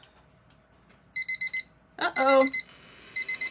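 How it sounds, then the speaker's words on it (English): A kitchen timer alarm goes off in bursts of four sharp, high electronic beeps, repeating after a brief jumbled flurry of tones; a person speaks briefly in between. "There's our timer."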